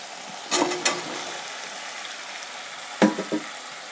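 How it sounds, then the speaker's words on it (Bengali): Potato and brinjal hit hot oil with two sharp bursts of sizzling and stirring scrapes, one early and one near the end, with a softer frying hiss between them. "আলু আর বেগুন তো এটাকে একটু ভেজে নিই"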